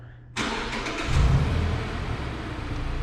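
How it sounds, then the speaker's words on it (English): A 2020 Mazda 3 GS engine started by its factory remote starter: a sudden crank catches into a loud, close rev that settles into a steady idle. "starts the car just like that"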